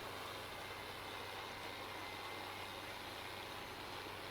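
A tractor engine in Farming Simulator 19 drones steadily while pulling a planter uphill, a constant, even hum that never changes, with no talk.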